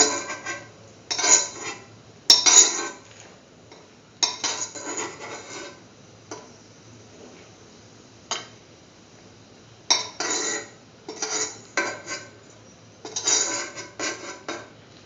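A spatula scrapes and clinks against a pan while cooked chickpea flour food is moved onto a plate, making sharp intermittent metallic taps and scrapes in separate bursts with quiet gaps between them.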